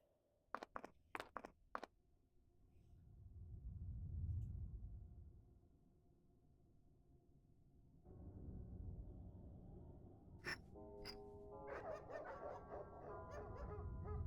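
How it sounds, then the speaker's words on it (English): Several dogs bark inside a house in a mystery adventure video game, a quick cluster of sharp yaps at the start over a low droning background, followed by music and chimes. "There's a lot of dogs inside of the house, it would appear."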